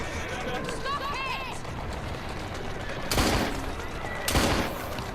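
Gunfire in the video game Assassin's Creed Syndicate, two loud sharp shot bursts standing out over steady game ambience and music, with no clear talk over them.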